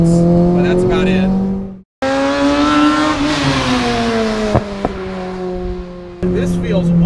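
A 330hp naturally aspirated 2007 Honda Civic on front slicks revs hard and loud with rising harmonic engine tones, a brief cut during a gear change, then accelerating again with a sharp intake howl and a few pops.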